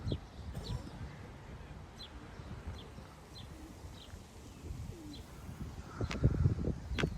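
A Çifttepe Kula tumbler pigeon coos softly amid other birds outdoors, low gurgling calls recurring under faint chirps and a steady ambient rustle.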